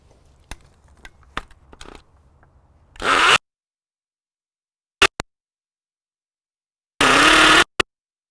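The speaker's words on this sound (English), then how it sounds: "then we'll try and drill a hole" A few faint taps, then two short bursts of loud, harsh whirring from a DeWalt DCD996 20V Max XR cordless hammer drill boring a hole with a 3/8 bit, each under a second, separated by silence and a couple of sharp clicks.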